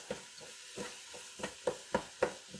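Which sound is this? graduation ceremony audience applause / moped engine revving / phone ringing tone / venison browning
venison browning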